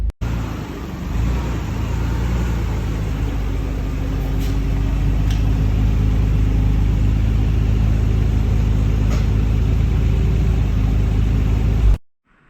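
A Nissan Skyline R32 GTR with failed turbos being pulled in, a loud, steady low engine rumble held close throughout, ending abruptly.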